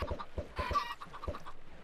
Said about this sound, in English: Let's get some chickens in here.